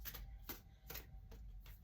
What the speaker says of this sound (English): What I do like to do with the cards is I like to knock them 3 times, clear anything.